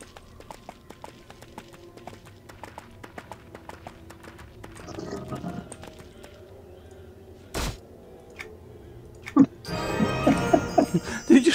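Horse hooves galloping in EverQuest 2 gameplay, a rapid rhythmic clip-clop of repeated hoofbeats, fairly quiet, with occasional louder thuds and bursts of other game effects.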